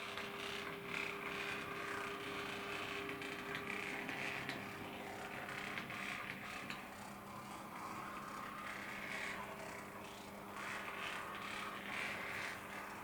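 A Dapol Class 121 model train with repaired driveshafts runs slowly, giving a steady, quiet mechanical whir and faint gear rattle with a constant hum throughout, no voices.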